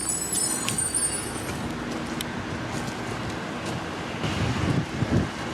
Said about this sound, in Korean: 오늘도 바람이 엄청 불어